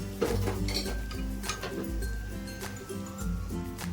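A spoon stirs a sweet mixture in a pan on the stove, giving soft continuous scraping with light metallic clinks and taps that repeat throughout.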